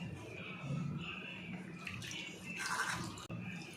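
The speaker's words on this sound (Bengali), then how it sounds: "ঠান্ডা জল দিয়ে ধুয়ে নেবেন" Chhena curds for rasmalai being rinsed under cold running water, a steady splashing and trickling wash close by with brief louder surges, heard alone without talk.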